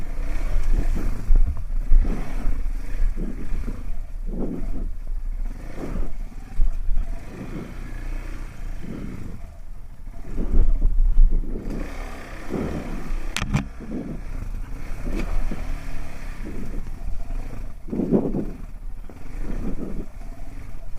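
A KTM 690 Rally Raid motorcycle ridden off-road while the rear wheel struggles for traction, its single-cylinder engine revving and surging continuously close to the rider, with clatter and wind noise throughout.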